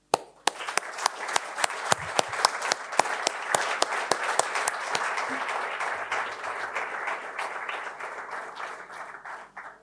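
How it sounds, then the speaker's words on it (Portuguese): A leadership-talk audience gives a round of applause, opening with a few sharp separate claps that swell into dense, sustained clapping before slowly thinning out. "eu peço a todos que se juntem a mim numa forte salva de palmas ao avô e aos seus 2 netos"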